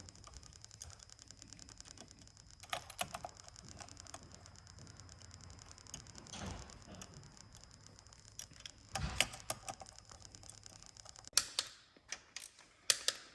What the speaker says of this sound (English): Torquing the cam plate down now